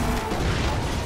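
A car takedown crash in the racing game Need for Speed Hot Pursuit (2010): a dense, loud burst of crunching impact and rumbling low boom filling just over a second, with no voices over it.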